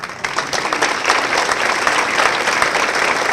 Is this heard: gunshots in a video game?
no